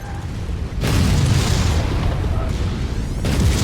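Mining platform blowing up in the mech combat video game MechWarrior 5, heavy booming explosions rolling in loud bursts over game noise and rumble, close and dense.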